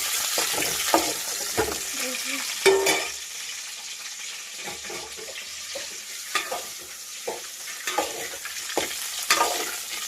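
Boiled eggs frying in a pan for a curry are stirred continuously, giving a steady sizzle with scraping spoon strokes and clinks at irregular intervals, fairly close.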